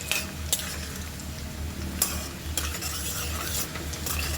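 Ginger frying in hot oil in a pan for a date and bilimbi pickle, a steady close sizzle broken by repeated scraping strokes of a spoon stirring against the pan.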